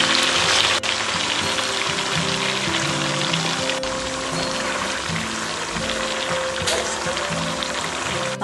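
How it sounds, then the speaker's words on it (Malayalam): Beef pieces frying in well-heated oil for a beef pickle, a steady dense sizzle and crackle running continuously and fairly loud throughout, with a couple of faint sharp ticks. "അതിലേക്ക് ബീഫ് പൊരിക്കാൻ വേണ്ടിയിട്ട് കുറച്ചായിട്ട് പൊരിക്കാൻ വേണ്ടിയിട്ട് ഇടുന്നുണ്ട്"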